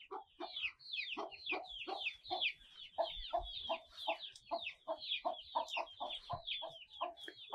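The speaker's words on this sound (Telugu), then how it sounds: "ఇక్కడైతే మరి చాలానే కోళ్ళు ఉన్నాయి ఫ్రెండ్స్" Native village hens cluck repeatedly on a Telugu farm, a busy overlapping chorus of short clucks and calls close by, steady throughout with no talking.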